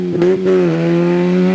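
A Fiat Panda 4x4 off road revs hard as its wheels spin, giving a loud, sustained engine drone with a brief dip before holding steady.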